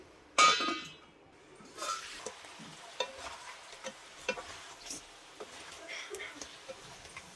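Andhra-style crab curry being stirred in a pan, with soft scraping and stirring strokes and light clinks recurring through the clip after a brief loud bump near the start.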